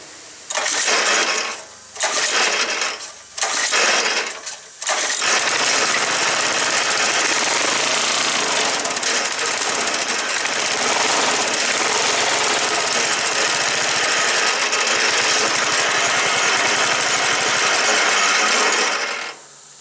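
A 1970s Roto Hoe tiller's small engine runs on choke, sputtering through a few short bursts before catching into a loud, steady, rough roar that holds close and continuous.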